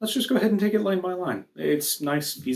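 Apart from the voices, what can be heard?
No distinct noise like a dog, phone or traffic.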